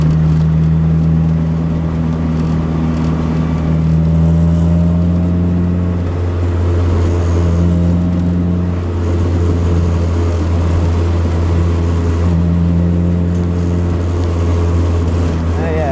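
A turbocharged GSR with a lightweight flywheel cruises in fourth gear, its engine a steady, loud droning hum with a slightly wavering pitch that holds throughout.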